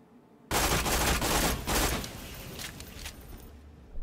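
Shotgun gunfire from the video game Borderlands 2: a loud blast opens the clip and a second burst follows about a second later. Both are dense and close, then decay into a rumbling tail.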